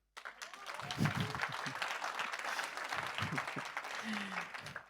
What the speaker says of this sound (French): On peut applaudir Manu.